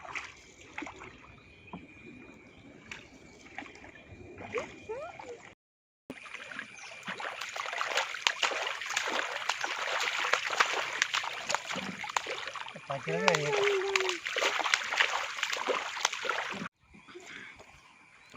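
Small wooden rowboat gliding on a river, with soft water splashing and paddle strokes close by, broken by brief quiet gaps; a voice and other voices come through faintly.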